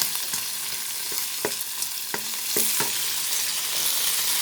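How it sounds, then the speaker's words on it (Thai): Crab being stir-fried with curry powder in a home kitchen pan, a steady sizzle with a few sharp utensil scrapes and knocks against the pan, close and alone without talk. "พอผัดปูได้เหลืองๆอย่างนี้เราก็ปรุงเลยนะคะ"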